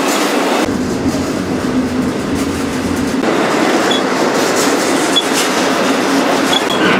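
A freight train rumbles along steadily, heard from aboard a moving car at night in Florida, loud and close, with rhythmic clickety-clack of wheels over rail joints and occasional faint metallic squeals.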